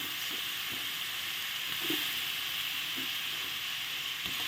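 Potatoes sizzle and fry in a pan of fish-roe curry with rohu, a steady broadband hiss running throughout with a few soft stirring bumps, close and continuous with no talk.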